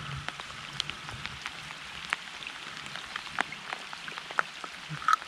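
Steady rain patters by a river on the Daugava (Western Dvina) during a fishing trip, with scattered drips and soft splashes over a quiet, continuous hiss; no voices.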